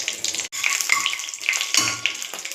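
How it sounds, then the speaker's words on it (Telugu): Cinnamon pieces, cloves and cardamom frying in hot ghee for a dhaba-style paneer curry, a close crackling sizzle with small pops and a brief drop near the start. "ఇది కొంచెం వేగనివ్వాలి."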